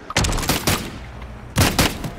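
Two sniper rifle shots go off in Call of Duty gameplay, each a booming burst with a trailing rumble, the first early and the second about a second and a half later. Both are close and loud.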